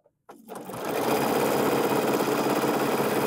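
Bernina sewing machine running fast and steady with a stitch regulator, free-motion quilting through fabric layers in one continuous close mechanical whir after a brief start.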